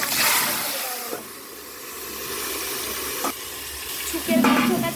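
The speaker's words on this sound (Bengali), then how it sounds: "তেল গরম হয়ে গেছে শুকনো লঙ্কাটা আগে দিয়ে দেওয়া হলো লঙ্কাটাও ফুটে গেছে তারপর পাঁচ ফোড়নটা দিয়ে দেওয়া হলো" Dried red chilli and panch phoron spices fry in hot oil, giving a steady broadband sizzle with occasional stirring clatters and a louder burst near the end, close and moderately loud.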